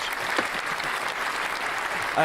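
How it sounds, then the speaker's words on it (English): A crowd gives a round of applause for a guest on a podcast, a steady broadband wash of clapping that carries through the whole stretch with a brief louder swell near the end. "Can I get a round of applause real quick for Scuba Steve?"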